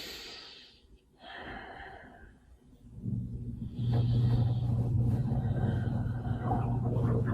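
Slow, deep breaths during a hip flexor and psoas stretch. Soft, close inhales and exhales come first, then a low, steady rumbling hum rises and holds underneath.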